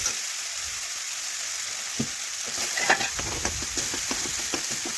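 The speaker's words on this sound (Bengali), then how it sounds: "এইভাবে ভাজতে ভাজতে টমেটোটা পুরো একদম গলিয়ে নিচ্ছি" Chopped tomatoes fry in a pan for a vegetarian cauliflower recipe, with a soft steady sizzle and scattered scraping stirs of a spatula, close and moderately quiet, with no talk.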